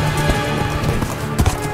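Cartoon horse hooves clip-clop in quick, even beats in a Minecraft stickman animation, loud and close over background music, with a few heavier thumps toward the end.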